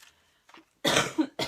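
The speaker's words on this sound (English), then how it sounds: "I still have a nagging cough." A couple of sharp, loud coughs close by, coming after a few faint rustling noises.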